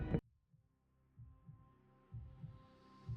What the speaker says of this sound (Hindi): राहुल का दिल तेजी से धड़कने लगा